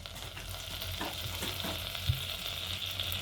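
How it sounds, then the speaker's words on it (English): Flour cooks in melted butter in a pan for a seafood gratin, a soft steady sizzle with faint stirring scrapes, quiet and close, no talk. "I'm going to cook out the flour"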